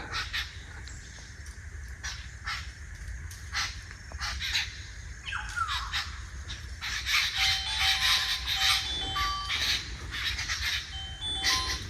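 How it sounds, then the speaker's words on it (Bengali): Birds call and chirp repeatedly inside a sal (gajari) forest in Gazipur, Bangladesh, with scattered squawks and chirps over a steady background hum, growing busier and louder in the second half. "এই আমাদের গজারি বনটার ভিতরে পাখির সাউন্ড শুনেন"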